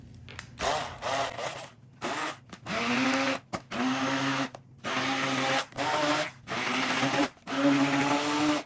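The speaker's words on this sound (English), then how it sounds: "I'm gonna use the hand blender for this." A hand blender whirs in repeated bursts of a few seconds each, separated by short pauses, pulsed close by while mixing a sauerkraut and mushroom croquette filling.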